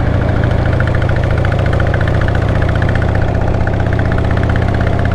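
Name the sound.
older motorcycle engine running over bumps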